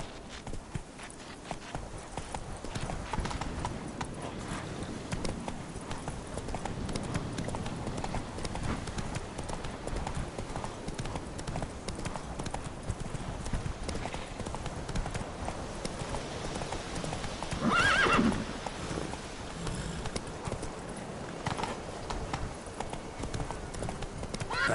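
Roach, a horse in The Witcher 3 video game, moves with steady clip-clop hoofbeats under a dense, busy game soundscape, with a brief louder burst near the end that could be a neigh.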